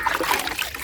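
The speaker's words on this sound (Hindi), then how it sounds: "अभी देखना ठंडा पानी डलेगा।" Water is poured over a pet rabbit at bath time, a steady close trickle and splatter that runs continuously with no talking.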